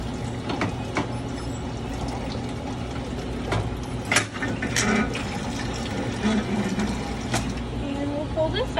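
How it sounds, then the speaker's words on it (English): Sanitized water trickles and splashes out into a bucket as a part is pulled free, a close, steady watery wash with a few louder sloshes, under background hum. "there's going to be a little bit of sanitized water that's going to come out still"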